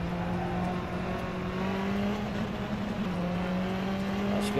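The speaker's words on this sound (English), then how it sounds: "This car's got a very, very quiet engine sound." A race car engine in the game rFactor 2 hums at a fairly low volume, its pitch drifting slightly up and down as it drones on without any voices.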